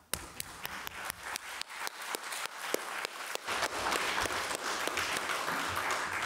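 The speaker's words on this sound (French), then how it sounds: "On peut vous remercier, vous applaudir." Audience applause closing a conference talk on digital technology, sparse separate claps at first that build into dense, steady clapping from a room of people, fairly loud throughout.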